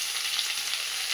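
Fish heads fry in a pan with vegetables, dried red chilli and green chilli, giving a steady, close sizzle with no talking.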